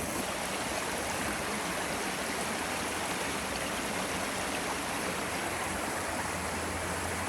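Two creeks meet in a steady, even rush of flowing water on a hiking trail, a continuous broadband babble close by with no voices.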